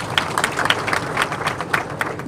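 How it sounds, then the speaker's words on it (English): Audience applause at a diploma graduation ceremony, steady broadband clapping from a crowd for a group of graduates standing, with scattered sharper claps throughout. "Let's clap for them."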